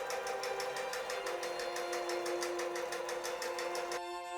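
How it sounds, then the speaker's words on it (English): Sewing machine hemming pants with a twin needle, a fast regular mechanical rattle of stitching that runs steadily up close, then stops near the end leaving the motor's hum. "For better twin needle sewing, lower the tension and sew using a longer stitch length."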